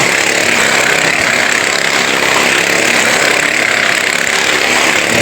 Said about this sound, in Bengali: এই যে এখন দেখেন মোটরসাইকেল খেলাটা, পিছনে করে নিয়ে মোটরসাইকেল চালাতেছে